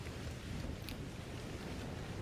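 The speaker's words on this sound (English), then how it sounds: "A rainstorm is now playing." A rainstorm sound effect plays during a tabletop roleplaying game, steady faint rain hiss with a soft rumble beneath, continuous and even with no voices.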